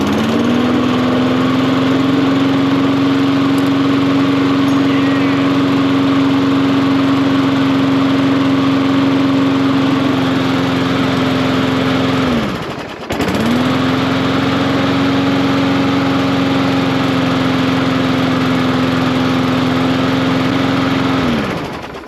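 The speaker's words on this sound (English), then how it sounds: "for 2 free lawnmowers, we already got one running" A free, previously neglected push lawn mower engine runs steadily after being primed, a loud, close, continuous droning hum with one brief dip in the middle before it carries on at full speed, no talking.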